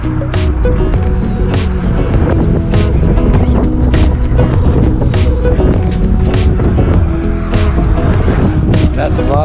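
A 1970 Chevelle with a blown engine and two four-barrel carburetors idles loud and close at a car show, its lumpy, choppy rumble steady throughout, with sharp crackling transients above it.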